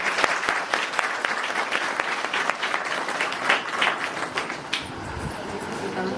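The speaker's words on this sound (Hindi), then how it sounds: "सब लोग ताली बजाएंगे प्रभु की महिमा के लिए।" Wedding guests at a Christian ring ceremony clap together for the glory of the Lord, a steady, fairly loud burst of applause lasting several seconds before tapering off.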